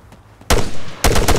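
Enemy gunfire in the Arma 3 military game arrives in two loud bursts of rapid shots separated by a brief lull, close and sharp, with a faint background before the first burst.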